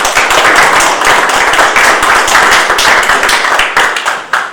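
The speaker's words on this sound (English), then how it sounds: "I think we should give them all a round of applause" Close, loud applause from a group at a community meeting, a dense rapid patter of hand claps holding steady throughout with no talking.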